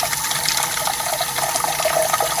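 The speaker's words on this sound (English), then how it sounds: "let's go run this sock underwater. At the sink now" Steady running water at a sink rinses a Dyson vacuum filter sock into a white bowl, a continuous broadband splash holding at an even, fairly loud level with no pauses.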